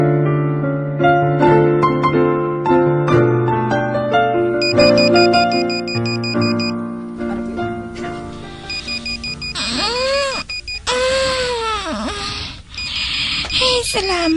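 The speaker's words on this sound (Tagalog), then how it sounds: "Nabatyagan kong akon alarm." An alarm rings out in repeated high electronic beeps after a stretch of music, with voices sounding over it.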